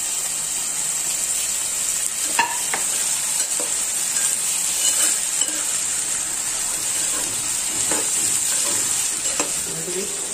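Bitter gourd pieces sizzle and fry in a hot pan while being stirred, a steady loud hiss with scattered scraping and clinking strokes of the spatula, close up and without any talking.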